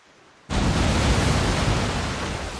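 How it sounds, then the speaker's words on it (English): A heavy cannon broadside from pirate ships in a naval battle in the Pirate Republic of Nassau video game: one sudden loud blast followed by a sustained, rumbling roar of overlapping fire. "so our cannons actually scrape their deck as opposed to go over the top"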